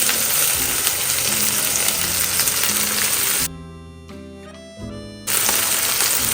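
Dried red chillies fry in a pan for a leek and tuna sambal, giving a loud, close, crackling sizzle that briefly gives way to a tonal musical interlude before the frying returns.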